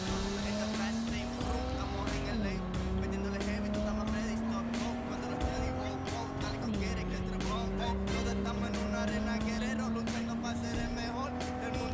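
Car in the video game Cyberpunk driving with a steady engine drone and sustained tire squeal, pitch stepping down twice as it shifts, with someone talking excitedly over it throughout.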